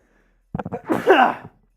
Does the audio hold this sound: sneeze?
yes